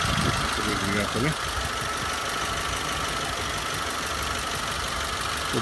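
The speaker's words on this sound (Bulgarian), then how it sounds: "Така, двигателя забравих да покажа." Dacia Logan 1.4 MPI running on LPG, idling with a steady, even engine hum and a constant drone close to the engine bay. A voice speaks briefly at the start.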